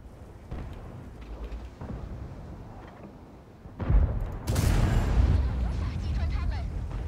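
A tank cannon firing in the World of Tanks game: a heavy booming blast near four seconds with a rumbling tail that carries on, following quieter engine rumble, while someone talks over it.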